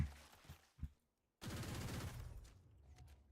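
An Odin machine gun in a video game shooting at a wall: a couple of soft thuds, a brief silence, then a sustained rapid burst of automatic fire, fairly quiet overall.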